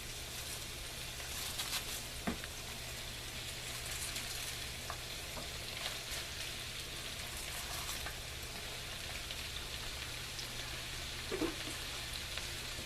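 Cabbage frying in a pan, a soft continuous sizzle with occasional light stirring clicks, close and unaccompanied by voices.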